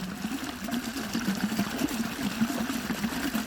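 Irrigation water running through a coriander field on a farm on a cold day, a steady gurgling, trickling flow close by, with no voices.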